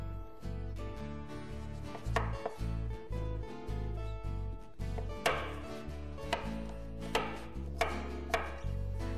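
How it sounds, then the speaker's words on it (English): Pumpkin is cut into chunks with a knife on a board, making a series of close, sharp chopping knocks at an uneven rhythm over soft background music. "And cut it into chunks."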